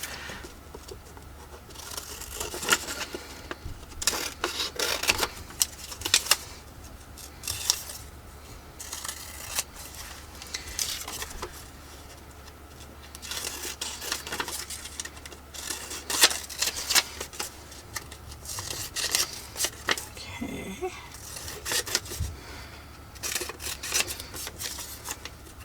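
Scissors snipping out small paper labels for ephemera crafting, a run of quick, close, crisp cuts in bursts with short pauses and paper rustling between, no talking.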